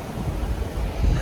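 Strong wind from a cold front roars through trees in a brief, loud gusty burst, with rumbling buffeting against the microphone.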